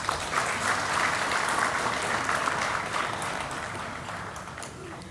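Steady, dense applause from a large audience at a national management convention, sustained and even throughout, tapering only slightly near the end.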